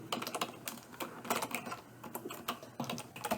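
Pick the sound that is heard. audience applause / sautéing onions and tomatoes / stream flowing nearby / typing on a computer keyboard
typing on a computer keyboard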